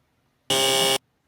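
A single loud, flat electronic buzz lasting about half a second, starting and stopping abruptly against near silence.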